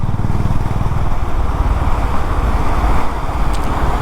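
A Honda CB350 motorcycle cruises in fourth gear at 50 km/h, its engine giving a steady, loud, low thumping drone mixed with wind rush, close and continuous throughout.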